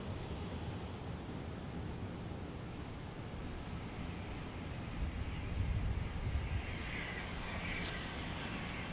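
An Embraer Phenom business jet at Dallas Love Field gives a steady, distant jet roar that swells slightly midway, mixed with wind noise across the whole stretch.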